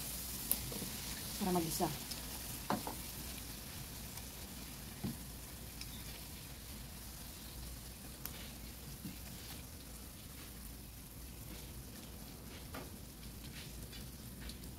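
Beef sizzling in a hot pan with plenty of garlic, a steady dense frying hiss running throughout with occasional louder crackles and stirring knocks, while a person talks briefly.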